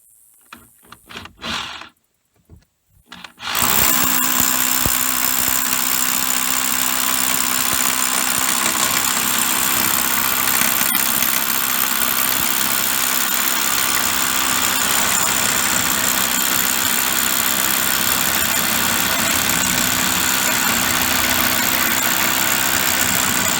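Hammer drill in hammer mode boring through concrete while a crawl-space egress window well is installed: a steady, loud, continuous grinding drone runs without pause after a few brief starts and stops.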